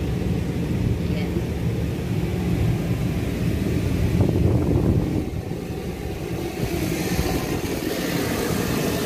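Strong wind buffeting the microphone outdoors in Riyadh, a constant low roar that swells and eases slightly, with faint background noise.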